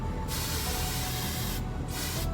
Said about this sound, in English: I just kind of spray it to get it out of my way